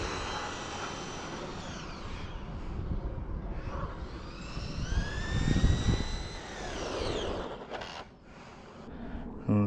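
Traxxas Mini Maxx RC car motor whirring at a distance, a thin high electric whine that swells and sweeps in pitch as the car speeds up and slows, over outdoor background noise.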